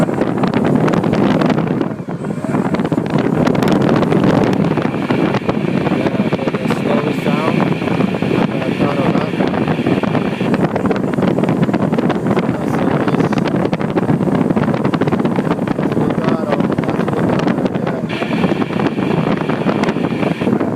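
A motor driven by a faulty HK red brick 80A controller at full throttle makes a harsh, hissing, noisy whine that stays steady without speeding up, loud and close, with brief tonal rises in between.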